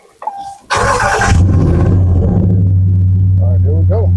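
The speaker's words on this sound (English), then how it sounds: "So I'm about to get in here and start it up and see" A Ram 1500 pickup engine cranks briefly and starts after an exhaust manifold repair, then settles into a steady, close idle with a low hum. Speech is heard under the running engine.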